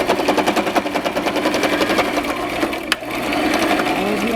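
A sewing machine stitches a fabric bowl cozy, a fast steady mechanical rattle running continuously at close range, with one brief sharp click near the end.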